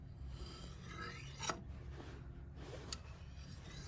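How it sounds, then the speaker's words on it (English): A kukri blade is drawn across a small jade whetstone pendant, giving faint, close rasping strokes with a couple of sharper scrapes, quiet and steady, with no talking. "I think that using a stone is the way to go if your knife has been dull"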